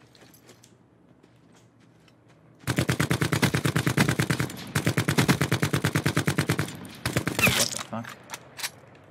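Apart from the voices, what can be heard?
gunshots from an unscoped gun in the video game Call of Duty: Blackout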